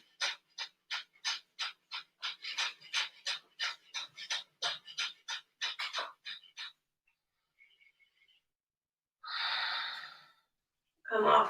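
Rapid rhythmic breathing in a vinyasa yoga flow, about two dozen quick forceful exhales in steady succession, then a pause and a few long deep breaths, close and alone.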